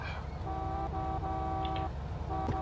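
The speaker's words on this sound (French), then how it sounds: "Oh, arrête de klaxonner" A car horn sounds in the video game GTA Vice City, giving several steady toots of varying length over a low engine rumble, moderately loud with no talk.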